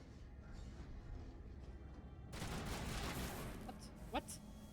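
Video game gunfire bursts in suddenly after a quieter stretch, a rapid rattling volley with sharp cracks, and a voice speaks nearby.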